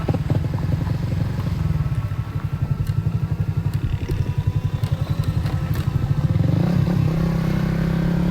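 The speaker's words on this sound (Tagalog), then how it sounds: "Tagtag ang motor ah." A motorcycle bouncing and rattling over a rough road in Calatagan, Batangas, its engine chugging in a fast steady pulse with clattering jolts from the bumpy surface, loud and close throughout.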